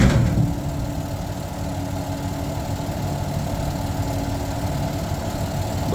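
A garbage truck's engine idles at low speed without high idle engaged, giving a steady, loud, low rumble with constant droning hum and no change in pitch.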